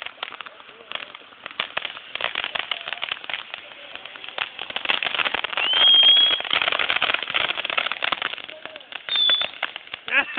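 A backyard fireworks show reaches its grand finale in a dense flurry of rapid crackling bursts. The bursts swell and fade over ten seconds while people talk in the background.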